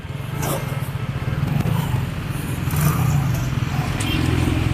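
A motorcycle fitted with a trolley body for a food stall runs close by with a steady, loud engine drone that holds throughout, reversing and shifting gear.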